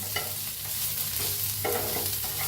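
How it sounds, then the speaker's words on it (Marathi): Grated coconut and onion roast in oil in a pan with a constant close sizzle, broken by a few scraping stirs of the spoon. No one speaks. "तसं होतंय तेल हलवून घेऊया. तेल घालून भाजून घेऊया."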